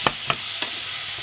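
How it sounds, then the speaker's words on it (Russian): Boiled chickpeas frying in a pan give a steady close sizzle, broken by three sharp scraping strokes of a spoon stirring them about. "И обжариваю все это с нутом."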